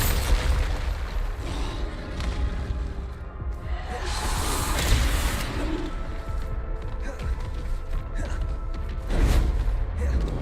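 Bombarda blasting-spell explosions in a Harry Potter video game: a dense, continuous wall of booms, crashes and whooshes over the whole stretch, with heavy low rumble and no single clean blast standing out.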